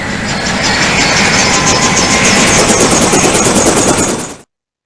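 A helicopter launches from a warship in the naval combat game Command: Modern Air/Naval Operations, making a loud, steady whooshing roar with rapid rhythmic rotor chop that holds for about four seconds, then cuts off abruptly.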